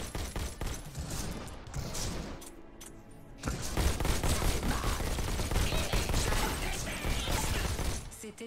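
Rapid bursts of futuristic gunfire from the VR game Robo Recall rattle close and loud, with a short lull before a dense, sustained volley, mixed with mechanical clanks and crashes.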